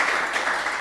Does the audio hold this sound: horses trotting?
no